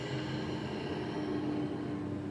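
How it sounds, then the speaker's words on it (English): A loud airplane passes overhead during an outdoor yoga class, a steady broadband roar with a droning hum that fills the whole stretch without letting up. "Loud plane."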